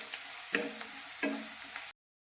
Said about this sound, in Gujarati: અને ડુંગળીને આપણે થોડી સાંતળીશું